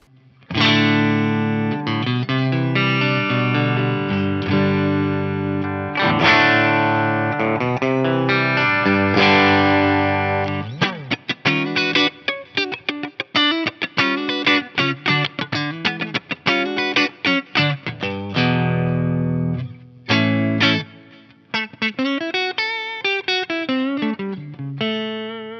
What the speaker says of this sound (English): It's the Triaxis Clean channel.